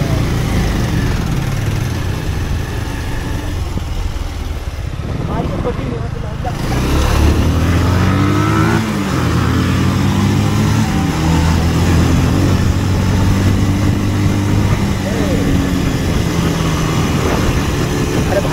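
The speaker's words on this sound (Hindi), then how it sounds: "तो अपने बाइक का एग्जॉस्ट हमको सुनाइए आप।" A motorcycle engine idles loudly, then its exhaust rumbles and revs deeper and louder, echoing in an enclosed space while voices talk underneath.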